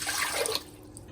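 Warm water is poured for a simple homemade bread dough in a brief, soft trickling splash that fades after half a second into quiet.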